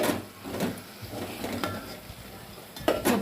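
A utensil stirring curry ingredients together in a pan, with scraping clicks and knocks recurring at an uneven rhythm over low kitchen background.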